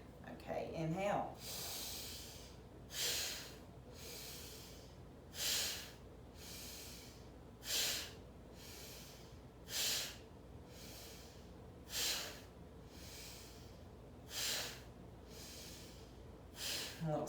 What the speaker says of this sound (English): inhale deeply and then forcefully through the nose exhale while pulling the belly back